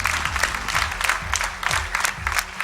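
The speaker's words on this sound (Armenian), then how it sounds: "Այս խիզախ աղջնակին եկեք ծափահարենք" Audience applause on a televised X Factor stage for a brave young girl, a steady mass of clapping with rhythmic pulses and music underneath, no talk.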